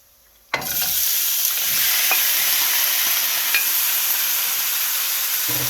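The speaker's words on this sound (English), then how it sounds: "And she will be stir frying the quail" Quail meat hits a pan of already-browned garlic for a Cambodian spicy stir fry, bursting into loud, close sizzling that holds steady, with faint scraping stirs now and then.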